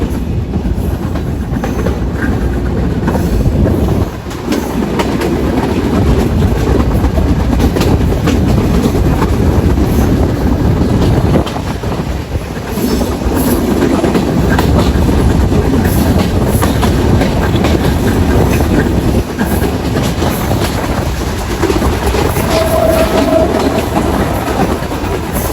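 Rumble and rhythmic clickety-clack of the Sundarban Express passenger train running on rails between Dhaka and Khulna, heard loud and close from inside a carriage, with steady wheel noise and occasional brief dips throughout.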